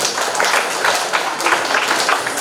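An audience in a school hall applauds, a dense, steady wash of many hands clapping at close range for a few seconds.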